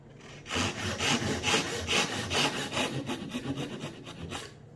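A hand saw rasps through wood in steady back-and-forth strokes, cutting a half-lap joint for a traditional Korean lattice door, about a dozen even pulls, close up with no talking.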